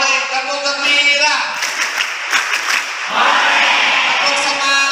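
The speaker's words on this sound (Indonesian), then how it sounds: "Tepuk gembira, boleh." A group of students at an Islamic boarding school training session claps in a patterned rhythm, a chanted clap routine with bursts of sharp, dense clapping and shouted voices, loud and close.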